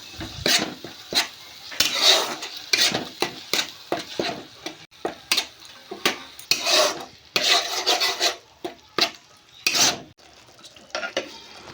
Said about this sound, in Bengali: দিয়ে ভালো করে নাড়তে হবে